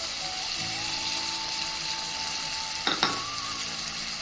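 Green peas frying with ginger garlic paste, salt and turmeric give a steady, moderately quiet sizzle throughout, with a faint tone running under it and two short sharp scrapes near the end.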